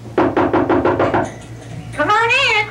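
A quick series of about seven firm knocks on a door sounds close and steady, then a voice is heard right after the knocking stops.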